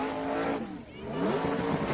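A race car pulls away at the Jósepsdalur track, a loud engine roar mixed with tire noise and rising revs that swell again toward the end, with a voice talking over it.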